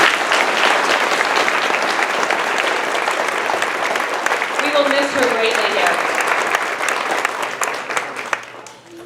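Audience applause at an elementary school fifth grade ceremony, a dense, steady clapping from a crowd indoors that fades near the end, with a voice speaking over it partway through.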